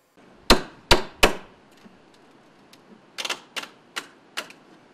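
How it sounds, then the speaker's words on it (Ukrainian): Hammer blows ring out during repairs to a cafe building at a quiet souvenir market in Yaremche. Three loud, evenly spaced strikes are followed by a pause, then a quicker cluster of lighter taps and a few more single hits. "З молотком у руках і на драбині нас зустрічає власник кафе пан Василь."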